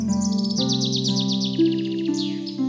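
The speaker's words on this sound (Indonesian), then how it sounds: "seekor burung warna-warni terbang di atas kepalanya" A colorful bird in a forest chirps in quick, bright, repeated tweets, close and clear, over a steady sustained tonal backdrop, with a rising whistle near the end.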